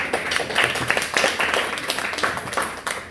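Church audience clapping together in a dense, steady patter of many hands, fairly close and even throughout.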